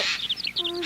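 A short, harsh Eurasian jay call rings out, a few rasping squawky notes in quick succession, moderately loud against a quiet outdoor background.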